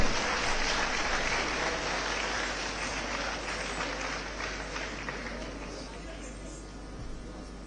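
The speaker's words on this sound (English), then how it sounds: "please welcome Varshini with a big round of applause" An audience at an annual event applauds to welcome a performer to the stage, giving dense, steady clapping throughout that slowly fades toward the end, with faint crowd murmur beneath.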